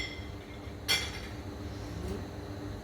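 The back of a spoon taps the shell of a soft-boiled egg on the hob, giving one sharp clink and a fainter second tap against a low kitchen background hum, with no talk.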